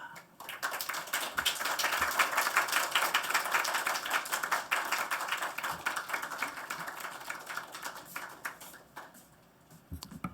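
Church congregation applauding warmly to welcome a missionary to the pulpit, a dense steady clapping that rises, holds for several seconds and slowly thins out, heard alone.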